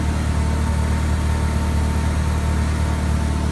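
Ford 2.5 gasoline or propane engine on a JLG 80HX man lift running at a steady idle, a constant close mechanical drone and hum with no change in pitch.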